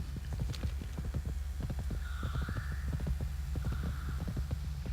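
A horse mount gallops in World of Warcraft through the Western Plaguelands. Its hooves make a fast, steady clip-clop that repeats rhythmically at a constant level throughout, with faint game tones in the background.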